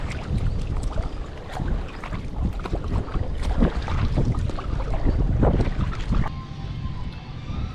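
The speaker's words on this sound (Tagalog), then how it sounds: "Grabing lakas kasi mga katangay ng hangin." Strong wind buffeting the microphone over open water, a loud continuous roar with a small fishing boat's noise underneath.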